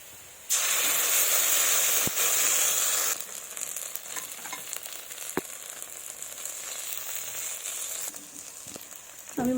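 Ground spices hit hot oil in a pan for a Bengali fish curry with pointed gourd, giving a loud, close, steady sizzle that drops to a softer crackling fry with scattered stirring clinks.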